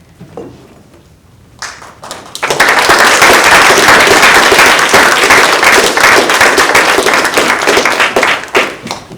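Audience at an environmental symposium on farm labor regulations bursts into sustained, loud applause after a quiet start, a dense wall of clapping that holds for several seconds before thinning slightly.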